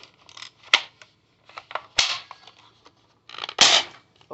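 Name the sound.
cheap airsoft spring gun shooting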